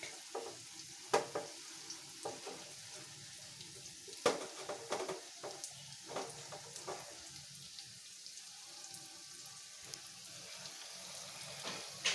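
Over-ripe banana fritters frying in a pan over medium heat, a continuous crackling sizzle with scattered sharp pops and spits, steady and close throughout, no voices.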